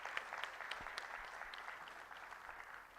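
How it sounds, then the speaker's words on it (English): A gathering in a hall at a government mineral-block auction event applauds steadily. The many overlapping hand claps sound fairly distant and soft, with a few sharper individual claps standing out. "Can we have a round of applause for each one of you who's present here today?"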